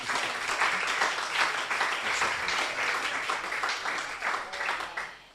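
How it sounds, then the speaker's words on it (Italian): Audience applause fills the room at an Italian amateur football team's 2017-2018 season-ending event, a steady dense clapping that stays loud throughout and tapers off at the very end. "Applauso."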